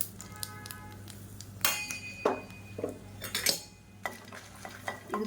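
Dried red chillies roasting in oil in a pan for garlic podi, with metal spoon clinks and scraping stirs over a faint sizzle, close, with loud clattering strokes in the middle.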